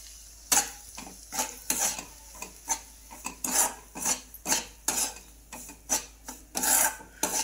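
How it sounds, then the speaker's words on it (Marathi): Semolina roasting in ghee in a pan, stirred with a spoon: a run of rhythmic scraping strokes, about two per second, close and fairly loud over a low background of faint sizzling. "तूप छान असा भाजून घ्यायचा"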